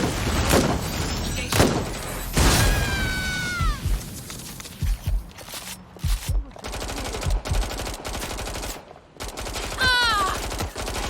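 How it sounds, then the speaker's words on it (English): Gunfire in Watch Dogs Legion, with loud rapid bursts and shots cracking amid in-game chatter, punctuated by sharp whistling sweeps and pauses between volleys. "Suspect has opened fire!"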